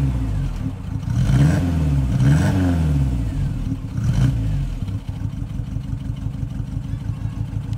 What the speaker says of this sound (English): I'll give her a rev inside so you can hear what she sounds like